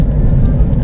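A car overtakes on the road, heard from inside as a loud, steady engine and road rumble that swells slightly through the short stretch, with no voices.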